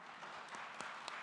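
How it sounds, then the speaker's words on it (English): Audience applause for a panel of speakers at a blockchain and metaverse conference, a faint, distant, steady patter of clapping hands. "One big applause for all of them"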